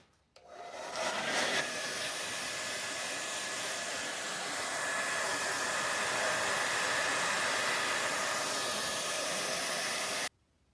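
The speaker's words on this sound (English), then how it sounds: "And now I'm going to dry this with the blow dryer before I do some final" A handheld blow dryer runs steadily for about ten seconds, drying a loose olive-green watercolor painting with a loud, even broadband whoosh, switched on and off cleanly with no talking.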